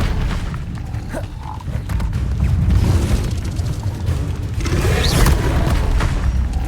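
An Incendio fire spell blasting in Hogwarts Legacy, heard as heavy, booming rumbles that swell and roll on for several seconds, loud and close with no talk.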